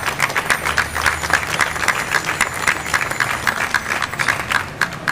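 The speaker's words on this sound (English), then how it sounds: "Give each of those constituencies a round of applause" A steady round of applause from an audience at a Philadelphia mayoral event on bike safety and zero traffic deaths carries on unbroken for several seconds, dense and fairly loud with many hands, and no talk over it.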